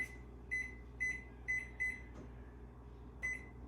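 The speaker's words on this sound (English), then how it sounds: "now we're going to set it for 27 minutes, my timer." An oven timer is set before baking sourdough bread, giving a string of short, sharp electronic beeps at uneven intervals, close and clear over a low hum.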